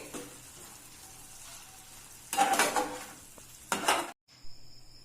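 Chicken fries in a little oil in a pan. A low sizzle runs under two loud bursts of clattering, scraping pan and utensil noise, followed by a brief cut to silence and a faint tone, with no voices.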